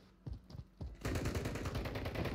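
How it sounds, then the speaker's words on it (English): Video game gunfire from Call of Duty Plunder: a few isolated shots, then a sustained rapid automatic burst that continues to the end, loud and close with no talking. "Watch yourself, somebody else is shooting"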